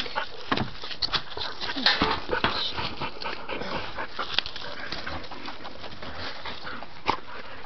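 A dog whimpers and pants after getting its toy stuck out of reach, giving repeated short, high whines and breathy pants at close range throughout.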